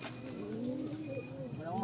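A pigeon or dove coos softly in a repeating, throaty rising-and-falling pattern, faint and somewhat distant over a steady low background hum.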